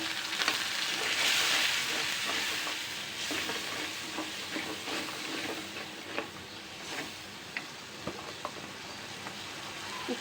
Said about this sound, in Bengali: সম্পূর্ণ মশলা দিয়ে এখন একটু কষিয়ে নেব।